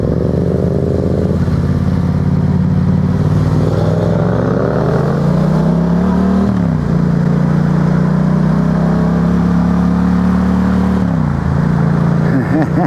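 A Yamaha FZ-07 motorcycle accelerating hard, its loud engine climbing in pitch through the gears with brief dips at each shift, recorded close by.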